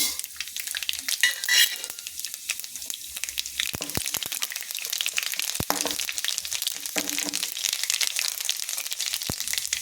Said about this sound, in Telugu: ఇప్పుడు పొయ్యి మీద మూకుడు పెట్టుకొని అందులో మనం తాలింపు పెట్టుకోవాలి